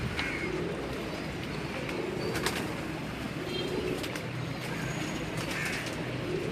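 Neel Dumbi breed pigeons in Faisalabad coo softly and steadily amid a busy background hiss, with occasional sharp ticks and faint flutters scattered through.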